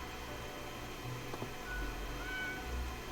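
A cat meows in the video game Death and Taxes, a faint, brief call over a quiet low background hum.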